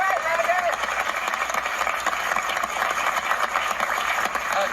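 A studio audience applauds a guest on a music quiz show, a dense, steady wash of clapping filling the whole stretch with crowd noise mixed in.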